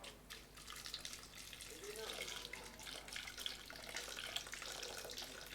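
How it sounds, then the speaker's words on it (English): Warm water is poured into a blender in a steady, splashing stream, close by and fairly quiet. "Okay, so I'm adding my warm water to the blender."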